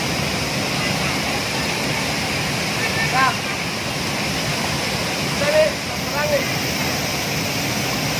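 Steady, broad rushing roar of a remote waterfall in Barru, South Sulawesi, constant throughout with a few faint bird chirps and brief louder splashes on top.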